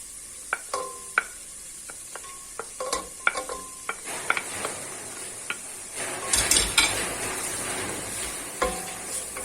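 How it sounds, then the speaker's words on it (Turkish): Onions and meat sauté in olive oil for a Hatay-style summer vegetable stew, a steady sizzle broken by scattered clicks and scrapes of a spoon stirring the pan, close and fairly quiet with no talking. "Soğanlarımı kavuracağım."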